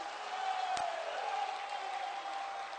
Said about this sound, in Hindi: तालियां बजाकर किया जाना चाहिए।